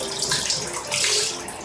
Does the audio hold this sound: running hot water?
yes